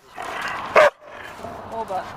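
A female dog lets out one short, loud bark in a room while people talk around it, the talking carrying on before and after the single bark.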